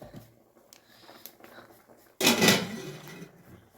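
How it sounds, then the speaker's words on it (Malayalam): After a quiet stretch of faint kitchen clinks, a single sudden clatter rings out as the lid is lifted off a pot of simmering egg curry, then fades. "ഒന്ന് തുറന്ന് നോക്കുകയാണ് കറി റെഡി ആയിട്ടുണ്ടോ എന്നുള്ളത്"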